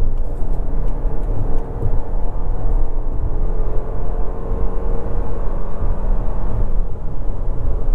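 A 2024 Toyota Grand Highlander Platinum SUV accelerating hard to pass traffic, a steady engine and road roar from inside the cabin that builds and holds for several seconds.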